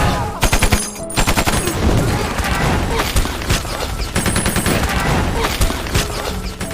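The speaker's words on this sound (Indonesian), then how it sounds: "Hujan peluru dan ledakan bom terjadi di pertempuran tersebut." Dense bursts of rapid gunfire crackle continuously, with heavy booming blasts of bomb explosions mixed in, loud and close throughout, in a battle between German and Soviet soldiers.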